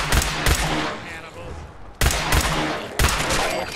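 Gunfire from a gun in Fallout 4 comes as loud, close bursts of rapid shots, with a pause in the middle and more volleys after it, heavy and dense against a background of game noise.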